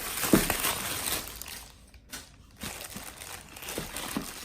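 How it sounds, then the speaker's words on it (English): Plastic bag being pulled off a boxed Huawei AM60 Bluetooth sport headphones package, giving crinkling, crushing rustles in uneven bursts with a short quiet gap midway, close and moderately loud. "after we're getting rid of the plastic bag, here's the box packaged by Huawei"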